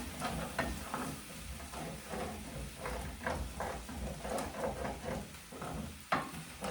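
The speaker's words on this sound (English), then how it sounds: "I can scrape some of this off from the bottom of the pan now." Kung pao filling stirred and scraped in a frying pan, with repeated rhythmic scrapes of a utensil against the pan bottom over a soft, low sizzle.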